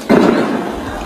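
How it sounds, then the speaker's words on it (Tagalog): Gunfire from a battle in Marawi heard from inside Amay Pakpak Medical Center, a sharp loud burst followed by a sustained rumbling decay lasting about a second, close and harsh. "Dinig sa loob ng ospital ang putukan ng mga baril."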